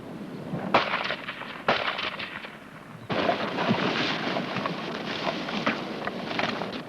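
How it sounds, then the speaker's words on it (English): During infantry section fire-and-manoeuvre training, sharp gunshot reports crack out three times, spaced about a second apart, over a continuous rough outdoor rumble that carries on after the last shot. "The section must be trained to continue the advance in spite of the noise of fire directed at someone else, and regardless of stray rounds nearby."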